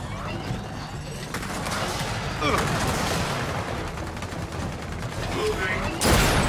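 Gears of War 4 firefight, with continuous rapid gunfire and mechanical clatter filling the scene and voices calling out through the shooting.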